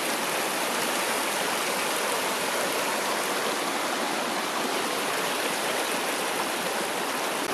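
A mountain stream full of snowmelt rushes steadily in a canyon, a loud, constant broadband roar of water nearby with no voices over it.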